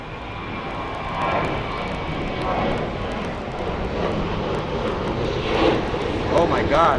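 Airplane landing or taking off at Phoenix Sky Harbor International Airport, a broad rushing engine roar with wind buffeting the microphone, steady and fairly loud throughout.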